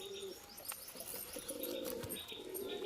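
A high-flyer Kaldom pigeon coos softly at close range in a pigeon loft amid faint chirps and a brief flutter, with no talking.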